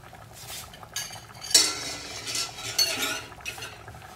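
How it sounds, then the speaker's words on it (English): Cornstarch being stirred into boiling sauce in a pot for pancit palabok, heard as soft utensil scraping and light clinks against the pot, a few sharper taps near the middle, close and fairly quiet with no talk. "Let's continue stirring it."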